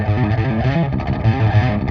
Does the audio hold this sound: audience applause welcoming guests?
no